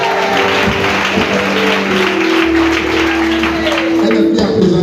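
A church congregation applauding to acclaim the Lord, a dense, loud, continuous wash of clapping with voices and sustained musical tones running underneath.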